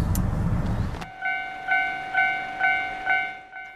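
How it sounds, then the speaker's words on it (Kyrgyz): Passenger train at a Hokkaido station: a short burst of low rumble gives way to a clear tonal signal that pulses in regular repeated beats, fairly close and alone. "Поезд Харада окуусун бүтүрүп алуусу үчүн гана каттап жатат"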